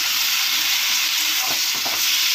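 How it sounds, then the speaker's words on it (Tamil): Tomatoes dropped into a pan with onions fry in a loud, dense, continuous sizzle, with a couple of soft stirring scrapes partway through and no voices. "இப்போ தக்காளி போட்டுடலாம்."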